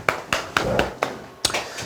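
Audience in a Korean motivational sales seminar claps in a few sharp, separate bursts spread over two seconds, fairly close and loud, with no talk over it.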